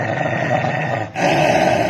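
Several dogs growling on a roadside, a steady, loud, rumbling snarl that cuts out briefly and then resumes.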